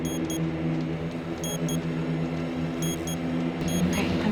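A timer in the game Hidden Agenda ticks with sharp, light clicks that come in short pairs at spaced intervals over a low, steady background hum.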